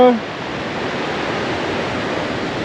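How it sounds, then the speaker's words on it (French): A steady broadband rush of wind blows continuously, loud and even, after a brief voice fragment at the very start, outdoors near a cow and a henhouse in Granada, Nicaragua. "Il y a un peu de vent, hein."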